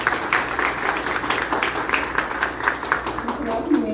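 An audience at a film event applauds a woman with a full round of clapping from a crowd, dense and continuous, while a voice speaks over it.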